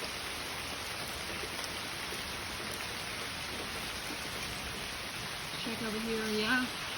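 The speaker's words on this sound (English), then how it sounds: "Finally getting some rain!" Rain falls on a Tennessee homestead after a long drought, a soft, steady hiss throughout, with a brief tonal sound near the end.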